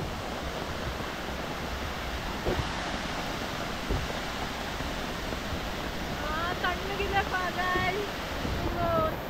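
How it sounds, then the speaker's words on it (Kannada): A roadside waterfall in the Kudremukh forest, near Charmudi Ghat, roars steadily through heavy rain as a dense, continuous wash of noise, with chirping birds or insects faintly cutting through near the end. "ಬರ್ತಾ ಹೆಂಗೆ ಒಂದು ಫಾಲ್ ಸಿಕ್ತು ರೋಡಲ್ಲಿ"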